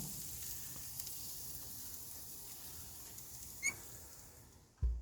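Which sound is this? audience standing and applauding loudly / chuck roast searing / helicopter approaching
chuck roast searing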